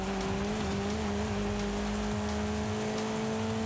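A Lynk & Co car in the Forza Horizon 5 racing game holds a steady, loud engine drone with a stable pitch, overlaid by tire noise throughout.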